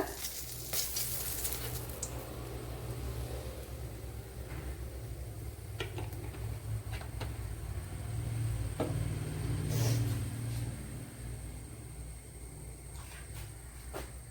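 Ingredients for an okra curry fry in oil with a soft, steady sizzle throughout, punctuated by a few faint clicks and knocks from the pan.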